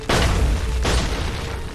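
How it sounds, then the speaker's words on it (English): In the video game Assassin's Creed III, cannons fire twice in quick succession during a crossing of Charlestown, each shot a loud, heavy boom with a long rumbling tail. "Can be a bit tricky considering there's so many cannons."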